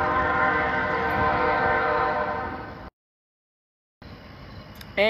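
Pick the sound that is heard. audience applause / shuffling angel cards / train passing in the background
train passing in the background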